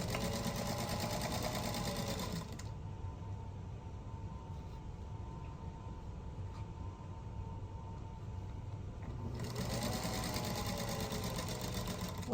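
A sewing machine stitches 1.5-inch plaid fabric squares onto the end of a 1.5 by 3.5 inch strip for a snow star quilt block, running in two steady whirring bursts with a quieter pause between them.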